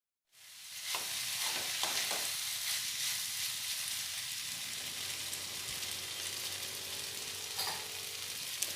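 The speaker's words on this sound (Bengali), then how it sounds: "পাস্তাটা খুব ভালোভাবে ভেজে নেওয়া হয়ে গেছে" Pasta frying in a pan with schezwan sauce and pasta masala, a dense continuous sizzle that starts abruptly and holds steady, broken by a few soft stirring scrapes near the start, close up with no talking.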